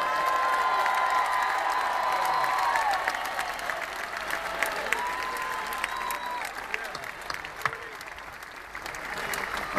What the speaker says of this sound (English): Applause for the best crew on the planet.